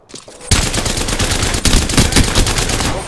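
Sustained automatic gunfire in a multiplayer battle royale shooter, loud and rapid after a brief quieter lead-in, rattling continuously for several seconds with dense overlapping shots.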